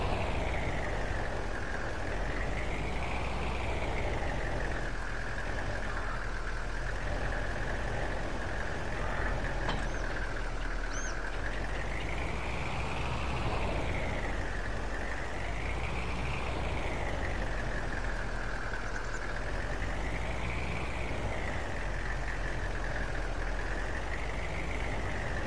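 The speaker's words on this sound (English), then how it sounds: "Just leave my truck running for a minute." A truck engine idles in Farming Simulator 22 with a constant low rumble, and a tone slowly wavers up and down over it for the whole stretch, without any talking.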